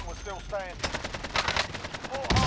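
Automatic gunfire from the video game Warzone, with an AK-47 and a Kar98k in play, rattles in short bursts at moderate loudness alongside chirpy game effects.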